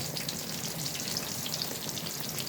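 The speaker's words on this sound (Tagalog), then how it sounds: "yung talong sa pagpriprito" Eggplant and shrimp fry together in a pan with a continuous, even crackling sizzle, heard close and alone.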